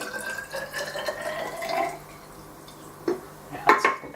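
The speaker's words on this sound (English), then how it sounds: "pour them into my cylinder." Aquarium water poured from a small beaker into a cylinder for a nano reef hydrometer reading, a soft trickling pour followed by a few light clinks of glass and drips, close by.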